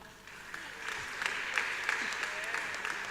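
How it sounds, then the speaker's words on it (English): Applause from a conference audience honouring a newly promoted animal science professor, a steady moderate patter of many hands with a few louder claps, continuing for a few seconds. "Can we applaud him?"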